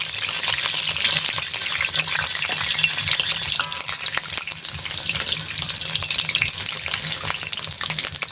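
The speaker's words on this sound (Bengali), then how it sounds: "এখন বড়া পিঠাগুলো লাল লাল করে ভাজা হবে" Palm fritters fry in oil with a dense, continuous sizzle and crackle that holds steady throughout.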